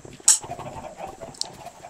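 Minecraft chickens clucking in the video game, a short squawk followed by a second fainter cluck over a low murmur of background game sound.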